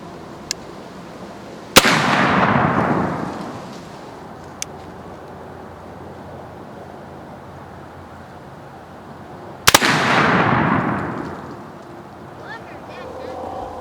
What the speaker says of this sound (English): Now I'm going to go ahead and show you how to shoot this gun.